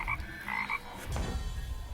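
A frog croaks in the Eternal card video game, a few short clear croaks in quick succession followed by a low thump, alone without talk.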